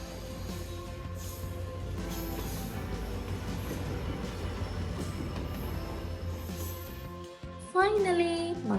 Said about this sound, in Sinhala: ෆයිනලි මගේ ට්‍රේන් එක නම් දැන් ආවා.